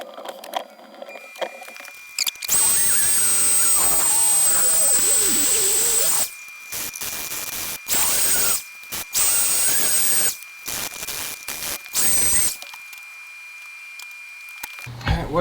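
Wood filler is being sanded smooth on a Fender tweed amp cabinet, probably with a power sander, in a shop. Loud, hissing bursts of sanding start and stop in several stretches, alternating with brief near-silent pauses.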